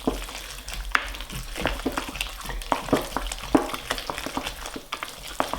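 Eggs are worked into mashed potato with a wooden spoon, one at a time, giving soft, irregular scraping and wet slapping strokes that repeat steadily at close range.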